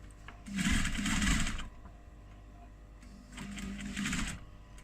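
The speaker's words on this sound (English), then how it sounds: "We're going to now start stitching along that edge" A sewing machine stitches binding around the edge and corners of a clutch wallet, running in two bursts of steady whirring with a short pause between them.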